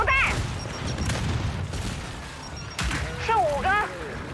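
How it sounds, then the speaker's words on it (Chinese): Gears 5 frag grenade detonation: a sharp, loud blast partway through a busy firefight, with voices talking before and after it. "丢出破片手榴弹，"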